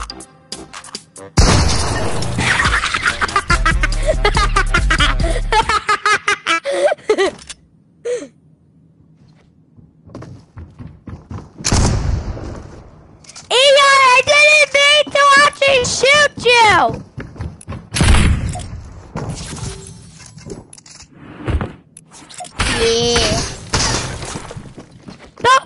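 A gunshot fires in a PS4 video game, a sharp burst standing out among loud game effects, music and excited chatter from players talking throughout.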